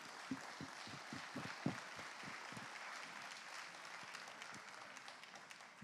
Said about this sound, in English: I want to give a big round of applause to Teresa